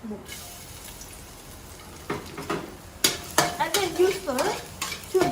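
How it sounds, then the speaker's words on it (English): Garlic and chilies stir-frying in a wok at a Thai cooking school, starting as a faint sizzle, then the utensil scrapes and clacks against the pan, with several louder bursts of stirring toward the end. "so stir fry garlic and chilies"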